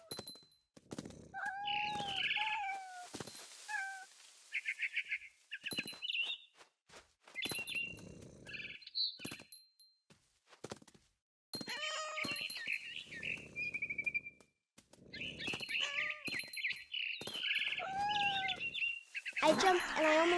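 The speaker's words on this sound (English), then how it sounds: "Then I heard chirping outside my window. It was a barn swallow going back to her nest." Barn swallow chirping in the WROEF video game, bright tweets and trilled calls coming in bursts between brief silences, with soft thunks mixed in.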